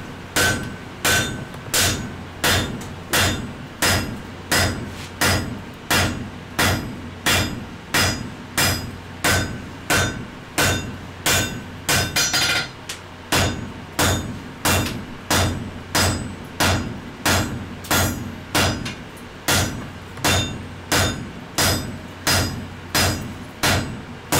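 A hammer rings against an anvil while forging hot steel tongs, in a steady, even rhythm, loud and close, dozens of metallic strikes with only a brief pause midway.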